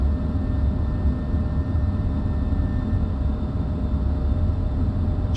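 F-15 Strike Eagle jets depart in a DCS combat flight simulation, a steady broadband engine roar with no break or change in level.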